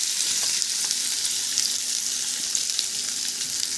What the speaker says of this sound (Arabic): واول ما الزيت بتاعنا يقدح هننزل بالايه بالبصل بتاعنا